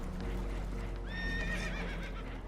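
Spooked horses neigh and whinny in Red Dead Redemption 2 as a damaged boat takes on water, a shrill rising call over steady game background noise and music, with hoof clatter underneath.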